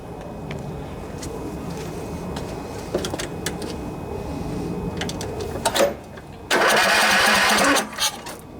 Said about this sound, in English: when we turn the engine over, we should have fuel coming out of there